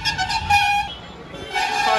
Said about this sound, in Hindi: यार ये हॉर्न यहाँ पे आने के बाद पता नहीं मतलब इतना ज्यादा हॉर्न ये लोग बजाते हैं।